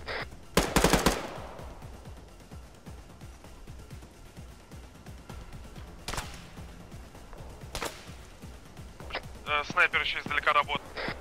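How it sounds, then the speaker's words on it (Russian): Enemy sniper gunfire in ArmA 3 during urban clearing: a loud burst of sharp cracks early on, then isolated shots several seconds apart, ending in a flurry of rapid crackling reports, with ambient battle noise throughout and no talk. "Так, это по мне он стреляет."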